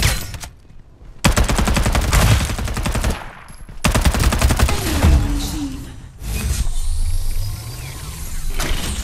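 Automatic weapon fire in the shooter game Farlight 84, long rapid bursts of machine-gun shots in close succession, separated by brief pauses with mechanical reloading clicks and a rising whoosh.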